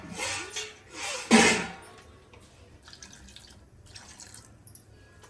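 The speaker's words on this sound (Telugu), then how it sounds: "కొంచెం వాటర్ పోసుకోండి" Water is poured onto 150 grams of jaggery in a cooking pan: a few short, close splashing pours, then faint scattered drips and light clinks.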